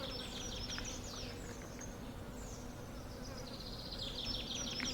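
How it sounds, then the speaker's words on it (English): Steady buzzing of video game insects, flies and bees, with high chirps flickering above a constant low drone; continuous and fairly close, no talking. "the birds, and my favorite, like flies, the insects."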